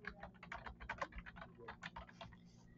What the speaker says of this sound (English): you can click on the search box and type in your company